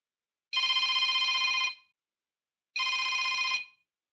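A telephone rings twice with an electronic trill during an automated verification call; each ring lasts about a second with a pause between, clear and alone with no talking.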